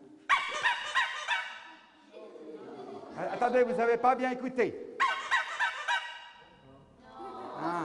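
A toy musical instrument imitating little birds in the forest gives two short bursts of rapid, chirpy trills, with a person speaking French between and after them.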